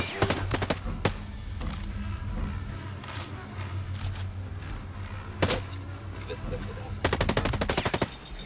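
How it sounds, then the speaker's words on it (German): An emplaced gun fires in the video game Ghost Recon Breakpoint: loud sharp bursts and rapid automatic volleys come in irregular clusters, ending in a dense stream of shots over a low rumbling background. "Irgendwo ein Geschütz."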